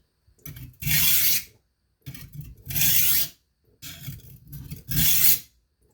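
A knife blade rasps back and forth across a coarse Norton India stone in three bursts of strokes, gritty and loud, with short pauses between them.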